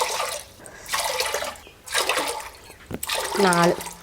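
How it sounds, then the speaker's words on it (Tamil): Four tumblers of water are poured into a pot of two tumblers of rice in several splashing bursts, with a brief voice near the end. "இப்போ தண்ணி ஊற்றிக்கலாம்"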